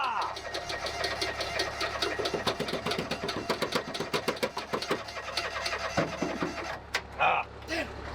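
A John Deere Gator 4x4 utility vehicle engine cranks repeatedly without catching, a rapid rhythmic churning that stops abruptly near the end, with people talking over it.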